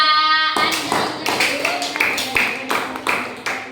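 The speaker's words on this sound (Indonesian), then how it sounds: "Tepuk tangan untuk kelompok 3." A small group of students claps in a quick, steady rhythm in a classroom, hands striking together close by, with a voice briefly audible before the clapping starts.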